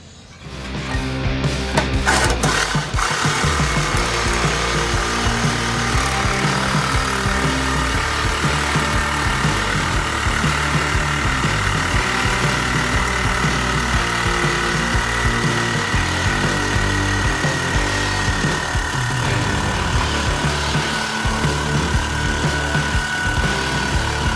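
A power tool cuts into a steel Jeep JL Barricade HD aftermarket bumper, giving a loud, harsh, continuous grinding whine right up close that runs without a break for over twenty seconds, with no speech.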